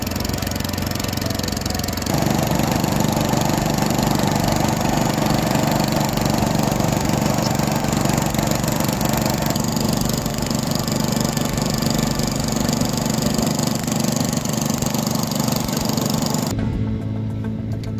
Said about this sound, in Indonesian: Mesin kompresor ini akan digunakan nelayan untuk menyelam.